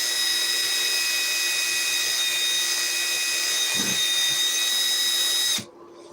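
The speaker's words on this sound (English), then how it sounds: "I am literally letting the weight of the drill go through the plexiglass" A power drill bores through a plexiglass panel with a steady, loud high-pitched whine carrying bright tonal harmonics, running continuously for over five seconds before cutting off abruptly near the end.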